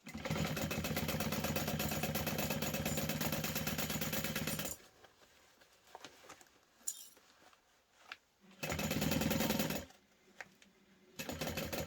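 A sewing machine bastes the lining of a portable Switch console case, running in a fast steady stitching whir for several seconds, stopping amid faint handling clicks, then running in two more short bursts.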